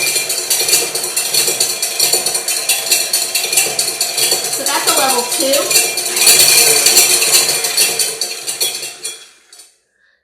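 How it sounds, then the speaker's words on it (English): A KitchenAid 10-speed stand mixer running at speed 2, its wire whisk clattering and clanging against the bowl in a steady metallic rattle. It fades out near the end, and a voice speaks briefly. "that noise is actually the clattering of the wire hitting this bowl"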